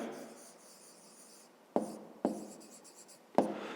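Pen writing on paper in a quiet room, soft scratchy strokes with a few sharper taps and scrapes, close and faint.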